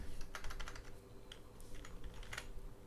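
Quiet, fast typing on a computer keyboard, with clusters of light key clicks in irregular bursts and short pauses.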